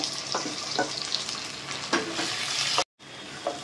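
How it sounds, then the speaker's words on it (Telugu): Tomato pieces sizzle with onions in a hot pan, with crackling frying noise and occasional stirring scrapes throughout and a brief drop to silence near the end. "ఇప్పుడు టమాటా ముక్కలు కూడా వేసి బాగా మగ్గించేసుకుందాము."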